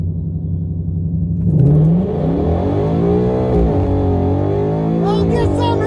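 A 2019 Ford Mustang GT accelerates hard in a street race against a Dodge Hellcat, its engine rising from a low idle into a loud climbing roar with gear changes, close up, while people talk excitedly over it.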